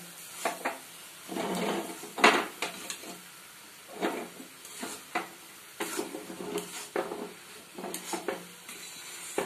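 Egg curry is stirred in a pan, with a series of scraping strokes and soft sizzling bursts in an uneven rhythm, close and clear with no talk.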